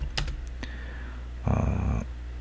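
Someone types a node command on a computer keyboard: a few light, spaced keystroke clicks, then a brief, louder clatter of keys near the end. No one speaks.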